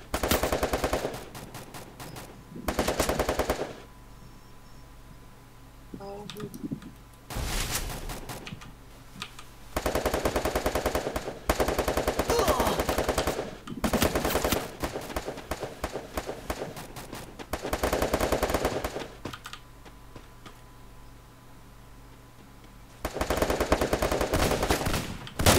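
Video game Garena Free Fire: repeated loud bursts of automatic gunfire, each lasting a few seconds, alternate with quieter stretches of running footsteps and ambient game noise across the whole stretch.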